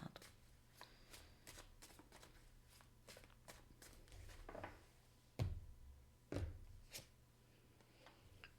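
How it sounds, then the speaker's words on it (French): Oracle cards being shuffled by hand in a quiet room, a run of soft riffling flicks and snaps with a couple of louder bumps as the deck is handled. "je vais juste sortir des cartes oracles"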